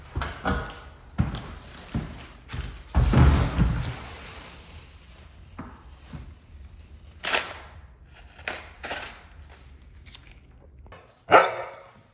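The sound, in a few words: dogs barking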